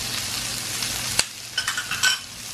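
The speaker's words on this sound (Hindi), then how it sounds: "अब शिमला मिर्च डाल देंगे, साथ ही मसाले भी डाल देंगे।" Capsicum and spices added to lightly browned onions frying in a pan, a steady sizzle followed by a few short stirring scrapes near the end.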